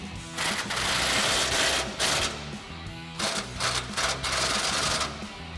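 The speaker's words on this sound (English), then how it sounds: "We're going to take an impact, a swivel, and an 18mm socket and tighten these up." An impact wrench with a swivel and 18mm socket hammers bolts tight on a Rough Country heavy duty LED front bumper for a 2017-2022 Ford F-250, in loud rattling bursts with short pauses between them.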